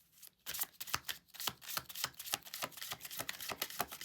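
A deck of oracle cards is shuffled by hand nearby, giving a steady run of crisp riffling slaps and flutters throughout, with no talking.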